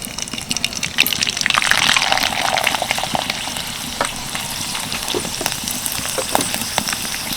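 Sago papad crackles and bubbles vigorously in hot oil, a loud, dense frying hiss that swells early on as another papad goes in, then settles into steady crackling with scattered sharp pops, close by and with no speech.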